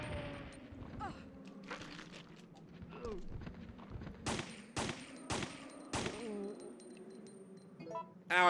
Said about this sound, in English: Ow, I think I hurt myself in that explosion.